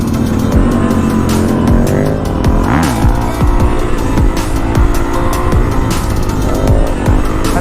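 Honda CRF450L motorcycle ridden hard in second gear during wheelie practice on a lot, its engine note loud and close, revving and shifting in pitch throughout with no talk.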